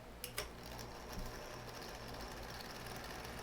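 A window fan on its low setting gives off a steady mechanical whir with a rattling, sewing-machine-like buzz and a low hum, running continuously and fairly faint, with a couple of brief clicks near the start.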